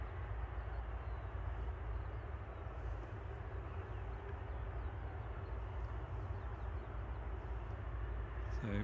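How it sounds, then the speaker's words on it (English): A Ryanair airliner taxis at Manchester Airport, heard as a steady, distant broadband engine roar that holds evenly throughout with no clear rise or fall. "Ryanair taxiing down there as well"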